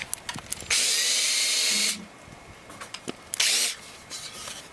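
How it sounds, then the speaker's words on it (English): A power drill drilling a countersink hole whines loudly in two bursts, a longer run followed by a shorter one, with small clicks and handling noises between them. "You can also use a really large drill bit if you don't have a countersink."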